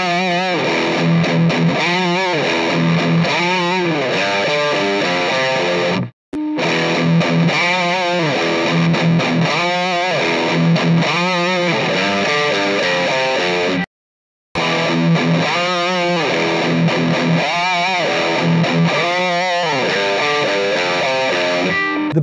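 Heavy, saturated electric guitar driven through a Tube Screamer overdrive pedal into an amp, playing chugging riffs with sustained gain, loud and continuous, with two brief silent gaps between phrases.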